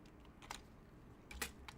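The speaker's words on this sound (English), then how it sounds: "I'm like typing all screwed up" Computer keyboard being typed on, faint and close: a few light keystroke clicks in short clusters over a quiet background, with no voices.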